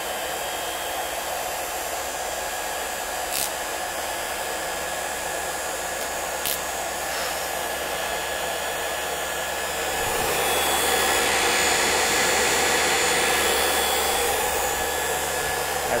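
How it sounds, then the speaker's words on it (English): A huge DC motor powered through a variac runs at speed with a loud, steady whir, growing a little louder and rougher after about ten seconds, with no talking. "That's one powerful ass motor."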